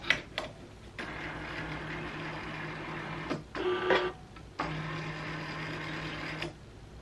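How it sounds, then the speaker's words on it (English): A Cricut Maker cutting machine powers on, whirring and humming steadily with a few pauses, mechanical clicks and a brief higher whine in between, close by with no talking. "I wanted to turn it on for the first time with you guys to see how noisy it is"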